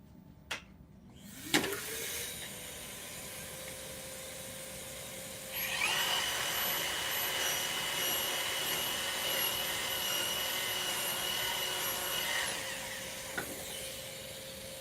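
A power drill bores a pocket hole through a Kreg jig, whining high and steady, with a sharper cutting tone partway through, fairly faint and without talk.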